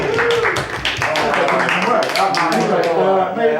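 Quick scattered clapping breaks out from a small seated audience at a Talkaoke talk-show happening in a café, brief hand claps mixed with voices talking over them.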